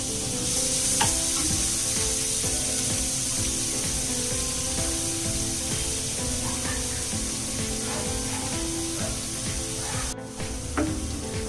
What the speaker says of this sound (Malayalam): ബട്ടർ നല്ലപോലെ മെൽറ്റ് ആകുന്ന സമയത്ത് ഞാൻ അതിലേക്കൊരു മീഡിയം സൈസ് ഓണിയൻ ഇതുപോലെ ഫൈൻ ചോപ്പ് ചെയ്ത് ആഡ് ചെയ്ത് വെക്കുന്നുണ്ട്.